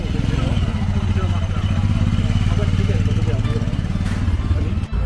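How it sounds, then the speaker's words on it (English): Royal Enfield motorcycles pulling away from a bike meet on the West Pennine Moors near Bolton, a continuous loud, thumping engine rumble close by with a brief clatter near the end. "There's our Royal Enfield boys setting off here"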